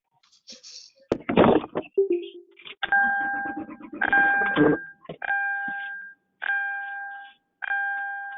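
A doorbell chimes repeatedly during a committee meeting, several two-tone rings in a row, loud and close, after a brief clatter at the start.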